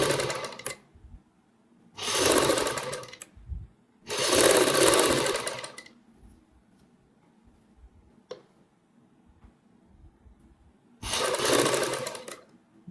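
Sewing machine stitching double piping along a neck design, running in three close bursts of a few seconds each, then pausing for several quiet seconds before one more burst, with no talking.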